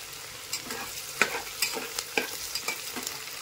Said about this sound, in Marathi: दोन कांदे आणि हिरवी मिरची गरजेनुसार घेतली होती। आता ती आपण चांगली तळून घेऊ।